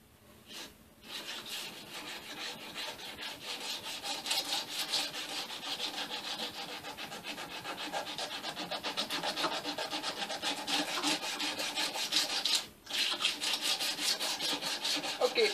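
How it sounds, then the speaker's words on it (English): Steady back-and-forth sanding on a handmade dagger blade, a continuous gritty rasping stroke after stroke, close and fairly loud, with one brief pause near the end. "I guess I can do some sanding on the blade."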